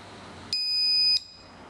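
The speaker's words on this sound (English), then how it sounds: "The LED will glow and the buzzer will beep to indicate the presence of metal." A metal detector's buzzer gives one steady electronic beep lasting about half a second as a metal piece is brought near its coil, loud and close over a faint background hum.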